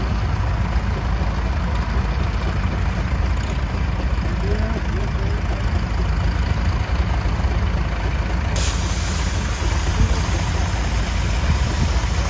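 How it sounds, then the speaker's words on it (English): Antique gas engines at an antique tractor and steam engine show parade rumble continuously with a loud, low, steady chugging drone, unbroken throughout. "we got gas engines coming up here"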